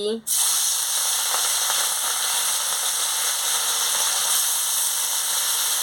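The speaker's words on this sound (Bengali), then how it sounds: "তেল গরম হয়ে গেছে আমি মাছটা দিয়ে দিচ্ছি" Fish hits hot oil in a wok with a sudden loud sizzle that continues as a steady, bright crackling fry for several seconds.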